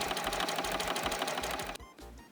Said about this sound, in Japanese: ミシンで縫ったら